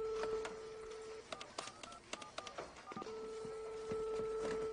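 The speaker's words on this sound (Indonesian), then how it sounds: "Domingo pun menghubungi telepon bank yang langsung diangkat oleh Uruguay." Telephone keypad tones beep in a quick irregular sequence, with a steady dial tone before and after, fairly clear and close.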